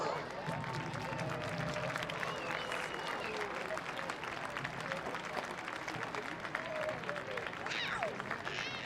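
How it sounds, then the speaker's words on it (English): Steady crowd applause at a Phoenix Rising versus New Mexico soccer match, sustained and dense for the whole stretch, with voices and crowd noise mixed in underneath. "Let's give a round of applause to show our support."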